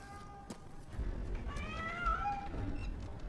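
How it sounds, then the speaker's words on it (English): A cat gives a single drawn-out meow, moderately close over low background rumble and faint movement. "You silly cat."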